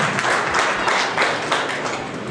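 Audience applause at a business success-story event, a dense steady wash of many hands clapping throughout, fairly loud and continuous with no talking over it.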